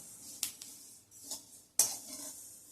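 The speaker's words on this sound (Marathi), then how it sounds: "तिळ घातली खसखस घातल्यावर एखादा मिनिटच फक्त परतायचंय" Sesame seeds and poppy seeds dry-roasting in a pan for a jaggery filling, heard as a few sharp scraping stirs with a soft rustle between them, close and alone.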